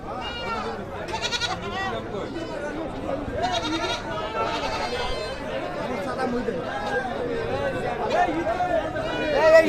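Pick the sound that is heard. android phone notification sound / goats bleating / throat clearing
goats bleating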